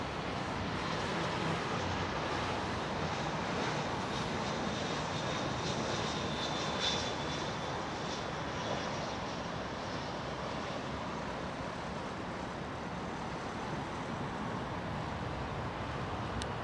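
Aircraft noise from early morning arrivals at London Heathrow Airport: a steady, broad engine roar that holds across the whole stretch at moderate distance, with no voices.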